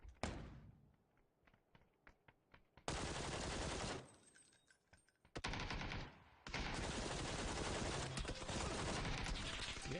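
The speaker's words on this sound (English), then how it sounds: "I'm getting shot from behind." Video-game gunfire comes in long, loud, rapid automatic bursts separated by short quiet gaps, with a few faint single taps at the beginning.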